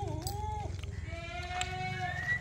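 Kota or Punjabi breed goat bleating on a goat farm, with a short wavering call followed by a longer drawn-out bleat over a low background rumble, fairly close.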